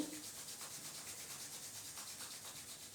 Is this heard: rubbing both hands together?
yes